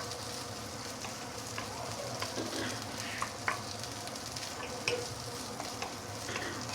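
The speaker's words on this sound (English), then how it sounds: "you want to saute the veggie until it started to be softened a bit" Vegetables for Maggi mee goreng are sautéed in a pan, giving a soft, steady sizzle with occasional light stirring clicks, fairly quiet and close.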